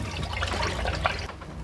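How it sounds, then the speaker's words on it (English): Dirty water drains from an auto scrubber's drain hose, a continuous close gushing and splashing flow that thins out near the end. "we're just gonna drain the water out of there"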